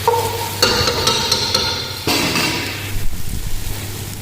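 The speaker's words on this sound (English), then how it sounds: "So you have to mix well like this." Green peas with cumin powder, black pepper and salt stirred in a pot for pulao, heard as a few close metallic scrapes and knocks of a spoon over a soft background hum.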